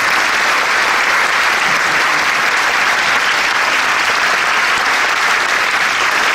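A concert audience gives loud, continuous applause for a returning performer, a dense and even wash of many hands clapping that holds steady for the whole stretch.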